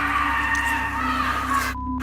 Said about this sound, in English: That sounds like somebody's being tortured for real. Like, that's a creepy, creepy shriek.